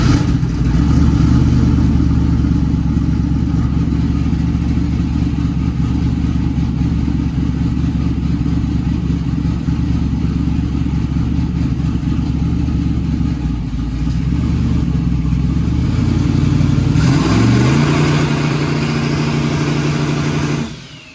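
A twin-turbo engine on nitrous makes a dyno pull with the rev limiter raised to 3,600 RPM, a loud, sustained close drone held near constant for about seventeen seconds before winding down and cutting off.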